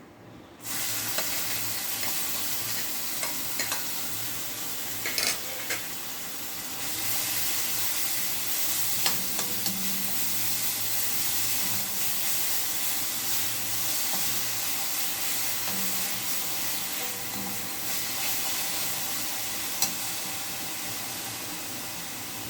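Crushed ginger, garlic and onion sauté in hot oil in a pan for a mutton mushroom gravy, giving a steady close sizzle with occasional stirring scrapes, no speech.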